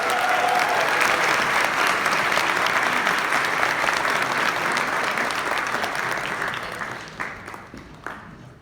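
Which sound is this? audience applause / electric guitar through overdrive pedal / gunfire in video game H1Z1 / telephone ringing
audience applause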